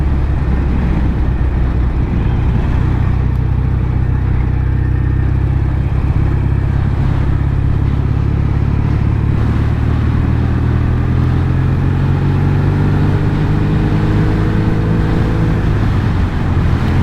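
A Norton Commando 850 MK2 classic British motorcycle engine idles steadily and loud throughout, a constant low mechanical drone with no talk.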